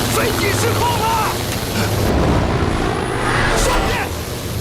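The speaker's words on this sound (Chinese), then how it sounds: "飞机失控了" Aircraft losing control in a war film, a loud continuous roar of engine and rushing air with rumbling low end, dense and unbroken throughout, with faint background tones.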